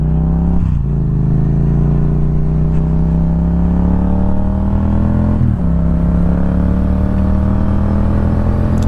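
A street motorcycle riding on a sunny road, its loud engine droning steadily close up, with two brief dips and recoveries as the rider shifts gears, wind noise underneath and no speech.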